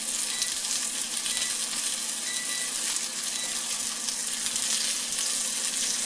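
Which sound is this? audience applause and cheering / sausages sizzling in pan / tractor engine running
sausages sizzling in pan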